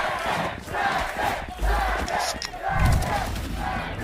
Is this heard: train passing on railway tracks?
no